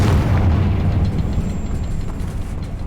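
A Confringo fire spell explodes in the video game Hogwarts Legacy, a loud, deep booming rumble that rolls on steadily for about three seconds with no one talking.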